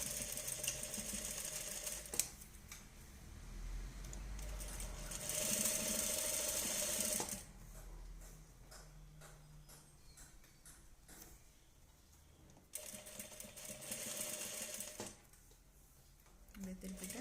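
A sewing machine stitches a blouse with short bursts of reverse stitching, a close rattling mechanical whir that starts and stops in several runs, separated by quieter pauses with a voice talking in between.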